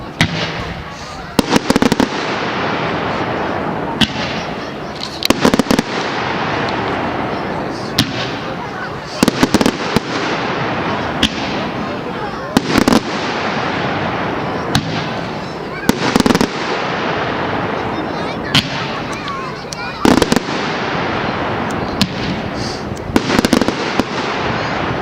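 Bonfire night fireworks display at Cassiobury Park, with loud, sharp bangs going off repeatedly in irregular bursts throughout, close by and echoing over steady crowd noise outdoors.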